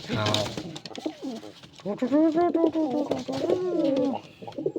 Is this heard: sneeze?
no